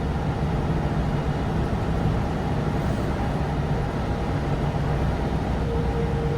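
A Tatra 815 dump truck cruises along with a steady, loud drone of engine and road rumble from inside the cab, continuous and unbroken throughout.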